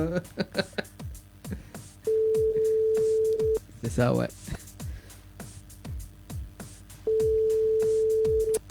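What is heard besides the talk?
telephone line tone while dialing a caller's number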